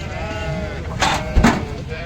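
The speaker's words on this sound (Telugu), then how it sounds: "మొత్తం తెల్ల జాతి గొర్రెలు ఇవి మంచిగా ఉంటాయన్నమాట" A white Nellore-breed sheep bleats briefly over a steady background hum, one short wavering call standing out near the middle.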